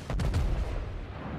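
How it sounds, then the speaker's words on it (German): Iowa battleship main-gun salvo in the World of Warships naval game, a quick burst of heavy booms packed into the first half second, then a rumbling decay. "da kommen die Schüsse"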